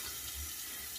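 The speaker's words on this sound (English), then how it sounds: "Let me get a rinse here." Water from a sink tap runs briefly for a rinse during a wet shave with Crowne & Crane Palloncino, a short steady splash and gush.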